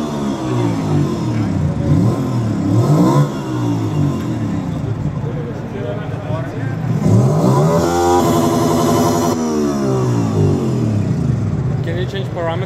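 Simulated motorcycle engine revving from a throttle-controlled sound and vibration demonstrator at the EICMA 2019 motorcycle show in Milan, rising and falling in pitch through several revs, with people talking over a busy exhibition-hall background.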